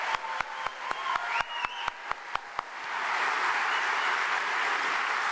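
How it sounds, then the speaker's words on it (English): A theatre audience at the Jefferson Center in Roanoke, Virginia, applauds George Takei: a few scattered, distinct claps come first, then they swell into full, continuous applause that holds steady to the end. "Big round of applause for Mr."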